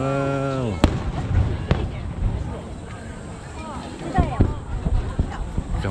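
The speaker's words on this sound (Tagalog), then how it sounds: "Kamakura fireworks post." Fireworks at Kamakura, Japan, heard as a few scattered sharp bangs and crackles at middle distance, with people's voices and crowd noise around them and a tone that falls away at the start.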